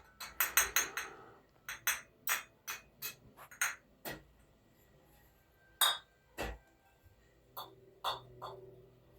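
Sharp metallic and glassy clinks sound in a quiet room, a quick cluster at first and then single taps at irregular intervals, fairly close and with no one speaking.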